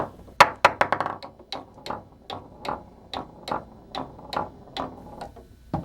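A foosball rolling and knocking against player figures on a table-soccer table, a string of sharp wooden clacks and taps in an uneven rhythm, close and clear with no talk.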